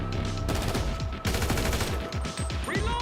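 Gunfire in GTA 5 Online during a boss fight, dense rapid bursts of automatic shots crackling continuously and loud for about three seconds, with overlapping weapons and no clear speech.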